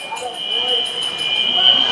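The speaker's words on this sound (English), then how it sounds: "And a fire alarm has gone off in the building." A fire alarm sounds inside an ice hockey arena during a game, a steady high electronic tone pulsing repeatedly at moderate level under an announcer's commentary.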